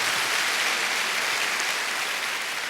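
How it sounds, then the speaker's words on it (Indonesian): A church congregation at a worship service gives God loud, sustained applause, a dense, even roar of many hands clapping close by throughout, with no voices standing out. "Kita kasih tepuk tangan yang paling meriah buat Tuhan kita"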